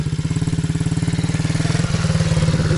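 A pit bike motorcycle engine idles close up with a fast, even thumping pulse that rises slightly in pitch as the throttle is opened gently, loud and alone.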